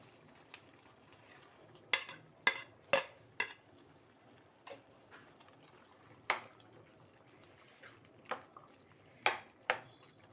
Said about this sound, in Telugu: ఇప్పుడు మనము హాఫ్ బాయిల్ చేసుకున్న పన్నీర్ ముక్కలు దీంట్లో వేసేస్తున్నాను